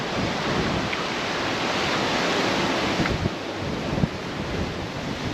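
Ocean waves wash steadily against the rocky coral shore near Tulum, Mexico, a loud continuous surf roar mixed with wind buffeting the microphone and a few faint knocks, with no voices.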